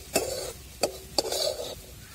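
Fresh coconut chutney being roasted in a pan while stirred: three sharp spatula scrapes against the metal, each followed by a soft rustling sizzle of the grated coconut, close and fairly loud, with no speech.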